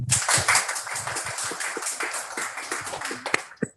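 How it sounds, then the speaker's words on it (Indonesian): Scattered clapping from a small audience at a Sumatra regional election convention, uneven and moderately faint, thinning out to a few last claps. "Saya kira perlu diberi tepuk tangan."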